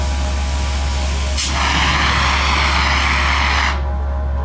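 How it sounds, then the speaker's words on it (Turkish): A dry chemical powder fire extinguisher at a firefighter training site bursts into a loud, steady rushing hiss after a sharp start, sprays for about two seconds, then cuts off over a constant low hum. "şimdi kuru kimyasal tozumuzla başlayalım arkadaşlar"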